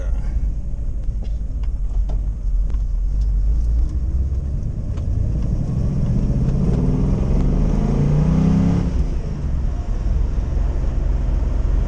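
A 1977 Pontiac Trans Am in Buccaneer red, its engine rumbling steadily while driving, with a swell of revving toward the end before settling back, heard from nearby without talk.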